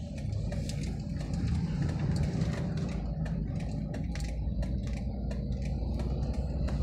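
A car engine pulls up an incline during a driving lesson as the gas pedal is pressed, a steady close engine drone under road noise, with no clear talk.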